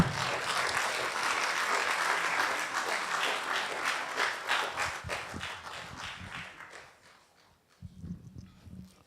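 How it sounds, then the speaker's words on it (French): Audience applause at a graduation ceremony in Luxembourg, a hall full of clapping that holds steady, then fades out and dies away, leaving faint room noise and a few scattered sounds. "je vous demande de l'accueillir par des applaudissements"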